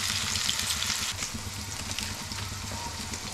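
Curry leaves frying in hot oil for a village-style stuffed brinjal curry, a continuous close crackling sizzle with fine spitting pops, steady and unbroken with no talking.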